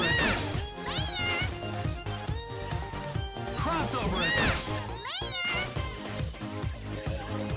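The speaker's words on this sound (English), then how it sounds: "Her last assist is Cat Spike." Cat Spike assist for Felicia in a Capcom fighting game, with catty meows and rising yowls layered over steady game music and a few impact smacks.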